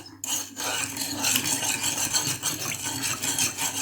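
Rice flour being stirred into onde-onde dough in a bowl, a continuous close scraping and rubbing of a spoon through the thick mixture, steady and fairly loud throughout.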